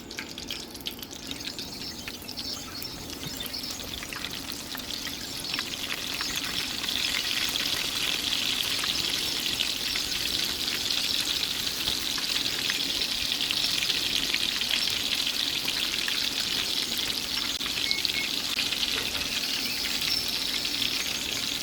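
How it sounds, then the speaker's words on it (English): Hot and spicy shrimp frying in a pan, a continuous close sizzle that starts softer and grows louder and fuller after a few seconds, crackling steadily with no talking. "Now I'm gonna be quiet while I fry up the rest of them."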